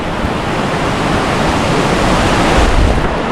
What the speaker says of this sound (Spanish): os voy a enseñar la última de las cascadas de la cima del Diablo.